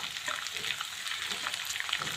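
Sliced onions and green chilies frying in a pan for a fish roast, a steady close crackling sizzle with no voices.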